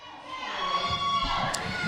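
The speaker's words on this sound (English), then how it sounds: "listen to this crowd come alive." A wrestling crowd at an NWA match swells into cheering and shouting, a broad roar building over a couple of seconds with a commentator's voice over it.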